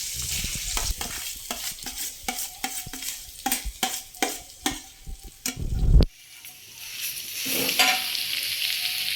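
Mashed potatoes fry in hot oil in a kadai, with a spoon scraping and stirring in repeated strokes, sharp knocks against the pan, then a steady sizzle as the stirring eases.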